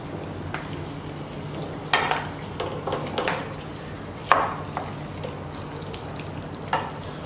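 Mashed potato and sweet potato frying in a pan for sweet potato halwa, a soft low sizzle broken by several spoon scrapes and knocks as it is stirred and added in.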